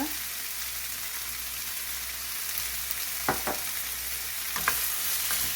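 Potato strips stir-fried in a pan give a steady soft sizzle, with a few short scraping strokes of a spatula near the end and no talking.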